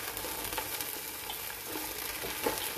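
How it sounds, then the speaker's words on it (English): Frozen okra (bhindi) frying in a pan for chicken curry, a soft continuous sizzle with faint occasional pops and light stirring, fairly quiet and steady, no voices. "I've added the frozen bhindi, and now what I'm going to do is I'm going to fry it"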